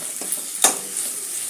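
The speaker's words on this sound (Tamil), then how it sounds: "நல்லா பச்சை வாட போக நல்லா வதக்கிடலாம்" Raw mango pieces sautéing in a pan for mango rice, a soft steady sizzle with a couple of stirring scrapes and one brief sharper clatter midway, close and fairly quiet.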